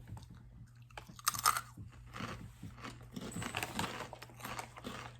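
Dollar Tree Takis-style rolled tortilla chips are bitten and chewed close to the mic, repeated crisp crunches in a quiet room with no talk.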